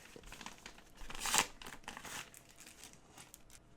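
Plastic wrapping crinkles as a package holding puzzle-cube stickers is opened, a soft, close rustle that swells into a louder crunch near the middle and then settles into lighter crackling.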